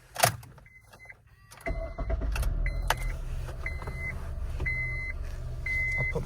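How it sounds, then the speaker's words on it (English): A 2007 Honda Civic LX: keys jingle, the engine cranks and catches into a steady low idle, while a repeated electronic chime sounds in the cabin. "from here, I'll start the vehicle"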